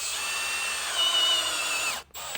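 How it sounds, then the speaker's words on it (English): A power drill whines steadily as it bores a 13/16 hole in a Ford F-150 for a Lumastep running board install, the pitch dipping slightly under load before the motor cuts off abruptly near the end. "this drill bit pulls right in"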